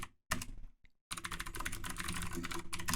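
Quick typing on a computer keyboard, a short burst of clicks, a pause, then a long run of rapid keystrokes, close and fairly quiet with no talk.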